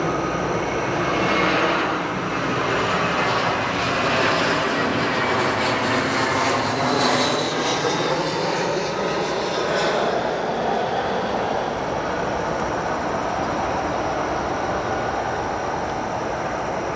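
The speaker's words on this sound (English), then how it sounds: "We have the Spirit Airlines flight 1306 coming in from Atlanta, right before our flight 8252." A Spirit Airlines airliner arriving at Chicago O'Hare Airport from Atlanta, heard as a steady, broad jet engine roar that holds level and fairly close throughout, with no speech over it.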